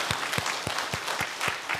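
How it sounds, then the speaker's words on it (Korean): A church congregation applauds during a Sunday service, with sharp, evenly spaced claps ringing out in a steady rhythm, fairly distant and moderately quiet in a large worship hall. "잠깐 하나님께 우리 영광의 박수를 올려드리도록"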